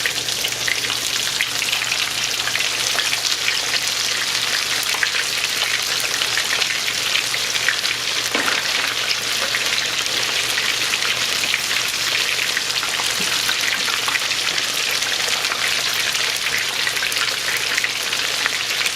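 Food double frying in a deep fryer, a steady dense sizzle and crackle of hot oil that runs unbroken and loud throughout, with a faint low hum beneath.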